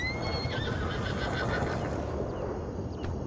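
A horse in the Red Dead video game neighs with a loud, shrill whinny that descends and fades over a few seconds, with hoof clip-clop underneath and no talk.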